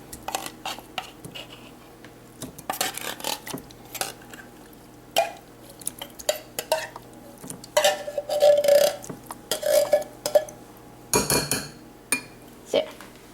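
A spoon scrapes and clinks against a bowl as food is scooped in for supper, giving irregular bursts of metallic taps and scrapes with pauses between them, close by and fairly quiet.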